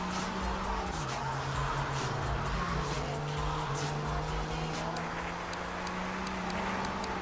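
Car engine in Grand Theft Auto 3 revving hard and holding a steady droning pitch that shifts up once, mixed with road noise and background action music.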